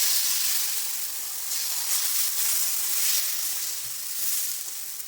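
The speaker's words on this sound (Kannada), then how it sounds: "ತವಾ ಕಾದಿದೆ. ಈಗ ಟೊಮೆಟೊ ಆನಿಯನ್ ಊತಪ್ಪ ಹಾಕೊಂಡ್ಬಿಡೋಣ." Tomato and onion uttapam batter on a hot tawa gives off a soft, steady, airy hiss that gently rises and falls, close by and alone with no talking.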